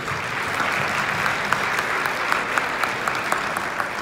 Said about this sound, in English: So big round of applause to all of you.